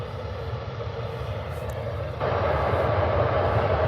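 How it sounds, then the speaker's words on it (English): Aer Lingus Airbus A320 landing at Birmingham airport, a steady loud jet roar that grows noticeably louder halfway through as the airliner draws near, with no talk over it. "The Aer Lingus A320 is coming in hot"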